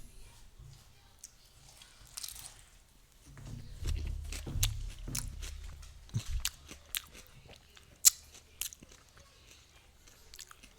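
Crisp bites and wet chewing on a homemade keto Big Mac burger, several close crunchy bites spaced over the stretch with soft mastication between, starting after a quiet opening with faint background noise.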